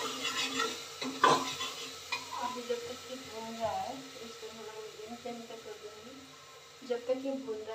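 Onion and tomato paste sizzle in a pan while a utensil stirs and scrapes against it in irregular bursts, with a sharp clink partway through.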